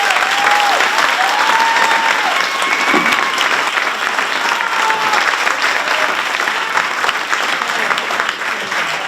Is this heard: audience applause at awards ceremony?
yes